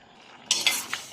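Stirring in a cooking pot of humba, a Filipino braised pork dish, just after sugar is added: three quick scraping, clinking strokes close up, alone and fairly loud after a quiet start.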